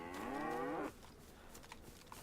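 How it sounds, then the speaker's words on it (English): Cattle in the DayZ survival game let out a single drawn-out moo lasting about a second, then it fades into quiet outdoor ambience with faint scattered ticks. "You hear cows, but they're too far away."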